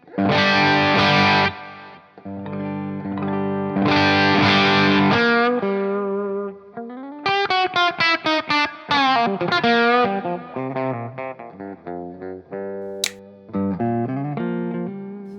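An electric guitar plays through a ToneX Royal 45 capture of a Marshall JTM45 amp with the gain turned up. Crunchy strummed chords ring out first, then a run of picked single notes and bends, loud and up front, with no talking.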